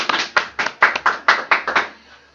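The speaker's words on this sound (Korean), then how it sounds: "예, 박수." A few people clap after a mini-lecture on global warming at a reading club, about nine distinct, close claps in an uneven rhythm before it stops.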